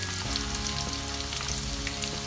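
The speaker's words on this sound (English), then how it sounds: "You turn the egusi over, you know, to make sure the other side gets the oil" Ground egusi sizzles steadily in hot oil in a pan as it is turned over, a dense, even crackle and hiss that holds at a constant level throughout, with no talking.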